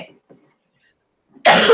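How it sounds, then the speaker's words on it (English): One short, harsh cough bursts out near the end after faint murmuring and near silence, close to the microphone. "I should be done with this cough, right?"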